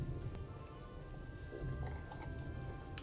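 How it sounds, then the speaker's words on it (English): Steady rain falls outside an old rented house, a soft continuous patter of drops on surfaces with occasional sharper ticks, fairly faint and unbroken. "I love the rain even more."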